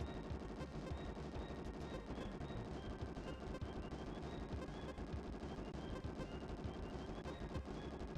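Gunfire in an SNES lightgun shooting game, a quiet stream of rapid, evenly repeated shots that continues throughout.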